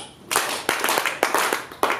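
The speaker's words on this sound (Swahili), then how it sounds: "Hebu mpigie makofi." A church congregation claps hands in a few loud, uneven bursts, with sharp overlapping slaps that start and stop in quick waves, close and lively.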